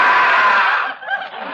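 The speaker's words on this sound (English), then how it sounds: "That scream you just heard was the geek." A loud, wild inhuman scream from the geek on a 1948 Jack Benny radio show, a sustained harsh howl that wavers and breaks into choppy cries as it trails off.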